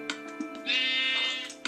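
Minecraft sheep bleating close and clear, a short call followed by one long wavering bleat, with no talk over it.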